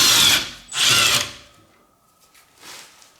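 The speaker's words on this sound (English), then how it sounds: "now I open these bolts" A powered socket driver works loose the bolts on a Toyota Corolla during a rear ABS sensor job, two loud whirring bursts close up followed by a fainter third, with no talking.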